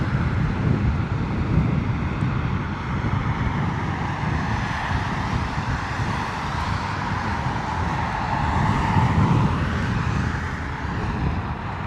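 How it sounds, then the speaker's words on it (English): A British Airways A320neo lands at London Heathrow in wet, windy weather. Its engine roar is steady and broad, rises a little toward the end, and is mixed with blustery wind buffeting the microphone, with no voices. "British Airways A320 Neo coming in from Barcelona"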